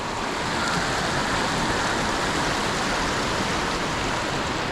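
Cucumber Run stream flowing near Cucumber Falls at Ohiopyle, a steady, loud rush of water that holds an even, unbroken hiss for the whole stretch, with no voices over it.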